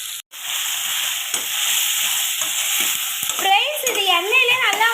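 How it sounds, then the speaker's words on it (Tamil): Eggplant pieces sautéing in hot oil give a steady, close sizzle with stirring scrapes, and a voice speaks over the frying toward the end. "இது எண்ணெயிலே நல்லா வதங்கட்டும் கத்திரிக்காய்"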